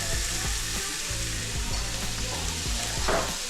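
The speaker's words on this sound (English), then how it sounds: "start browning all the meat and then browning down the sausage in the pots" Boneless, skinless chicken thighs seasoned with Cajun seasoning sizzle and fry steadily in hot oil in a pot, a constant loud crackling hiss with no talk over it.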